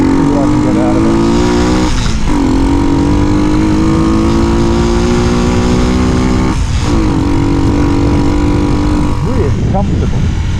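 A Hartford HD125 125cc cruiser motorcycle revs while being ridden, a loud, close engine whine that climbs in pitch, dips twice at gear changes, then rises again, with wind noise and a voice talking over it.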